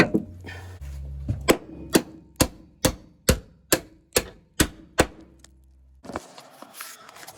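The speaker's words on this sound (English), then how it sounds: "I hammered it too far now." Hammer blows on a part during repair work on a Kia Soul, about nine sharp metallic strikes in an even rhythm, loud and close, with brief quiet before and after.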